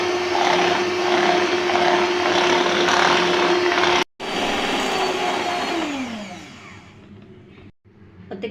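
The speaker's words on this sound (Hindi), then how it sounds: "5 मिनट तक इसको बीट करेंगे।" An electric hand beater whirring steadily through cupcake batter in a bowl, a continuous droning motor hum that briefly cuts out, restarts, slows with a falling pitch, then stops and starts again, with no talking.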